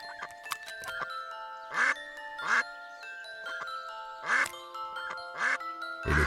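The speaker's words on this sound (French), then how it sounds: "Gédéon le canard" Cartoon duck quacks, Gédéon the duck, in repeated bursts over a bright tinkling musical background, loud and close with short pauses between calls.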